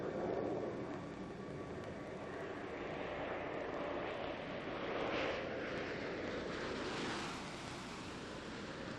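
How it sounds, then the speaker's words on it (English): Space Shuttle Atlantis glides in toward the runway for landing at Kennedy Space Center, a steady broad distant rushing roar that swells and fades slightly, with no voices. "the runway clearly visible as Commander Jim Halsell brings Atlantis in for a landing"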